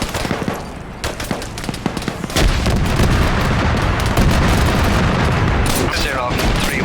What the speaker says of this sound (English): Zero 3-1 coming under heavy fire from the office building